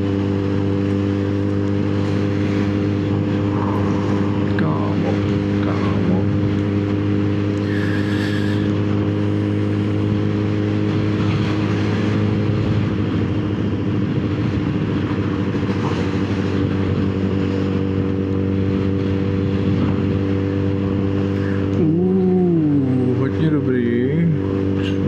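Motorcycle riding along at about 50 km/h, a steady close engine drone with a constant low hum under someone talking most of the way through.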